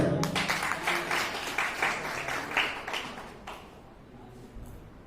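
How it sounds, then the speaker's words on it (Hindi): A crowd claps at a BJP party welcome event for a newly appointed district president, a dense burst of applause that fades out over a few seconds. "नरेंद्र मोदी जी के नाम पर तालियां बजाइए।"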